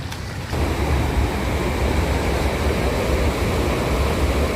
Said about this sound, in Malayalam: പീച്ച് വെള്ളം വിട്ടതിൻ്റെ ഭാഗമായിട്ടുള്ള വെള്ളമാണ് കേട്ടോ.